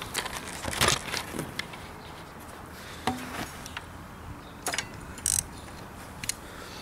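Ratchet loosening front brake caliper bolts on a Honda CBR600F PC41 motorcycle during a pad change, a few sharp close clicks and metallic ratcheting bursts separated by quiet pauses.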